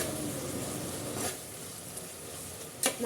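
Tomato and turmeric fry in a pan for a naati-style mushroom biryani, making a faint, steady sizzle close by, with a brief stir or scrape near the end.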